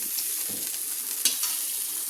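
Vegetables for a vegetable dal are lifted out of a frying pan, with a steady sizzle of hot oil throughout and a brief clatter of a utensil scraping partway through. No one talks.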